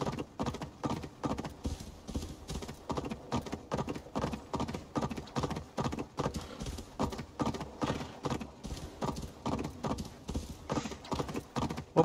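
Horse hooves gallop in a steady, rapid clip-clop rhythm throughout, a mount ridden across open ground in the video game Assassin's Creed Valhalla, loud and close with no talking.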